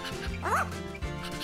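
A cartoon dog gives a single short, high, yipping bark, close and clear over a busy music-and-voice background.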